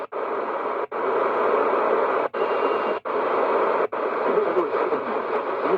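Weak shortwave station tuned on a TEF6686 radio, a hissy, noisy signal with faint muffled content, broken by several brief dropouts as the tuning changes.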